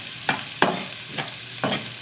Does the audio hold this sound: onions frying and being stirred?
yes